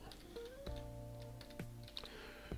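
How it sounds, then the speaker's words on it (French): Typing on a computer keyboard: quiet key taps in a short irregular burst, close to the microphone, with a steady tonal hum beneath. "Et je vais taper panneau."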